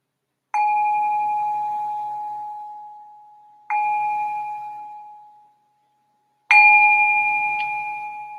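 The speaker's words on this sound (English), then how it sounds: "Now, ring the bell to signal the start of this next meditation." A meditation bell struck three times, each clear ring sustaining and slowly decaying before the next, with the last strike the loudest, heard alone in a quiet room before a guided meditation.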